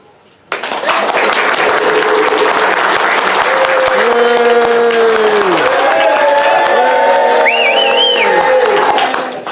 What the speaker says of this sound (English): loud and thunderous applause